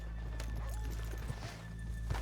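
Horses in the video game Red Dead Redemption 2 clop along at a walk near a main drive, a few soft hoof strikes under a low ambient rumble.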